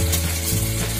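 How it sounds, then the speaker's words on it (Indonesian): A hand sprayer mists liquid fertilizer over young sweet corn plants, giving a steady close hiss of spray throughout the short burst. "Ini semprotannya, Jadi kita semprot aja ya."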